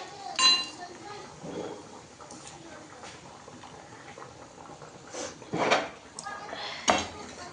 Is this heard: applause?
no